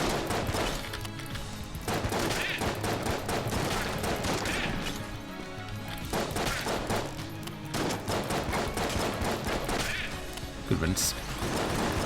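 Rapid enemy gunfire in the video game Enter the Gungeon, dense repeated shots and impacts layered over constant game music, with someone talking throughout.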